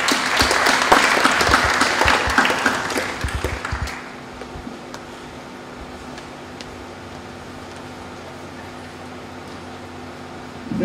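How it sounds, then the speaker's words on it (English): Audience at a public lecture breaks into applause for the arriving speaker, dense clapping for about four seconds that fades out, leaving a quiet room with a low steady hum. "Let us give him a round of applause"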